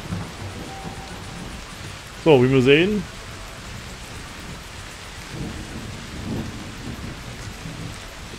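Rain and a thunderstorm in the Professional Farming video game, a soft steady patter of rain under a voice, with a short loud burst near the start and faint rumbles later.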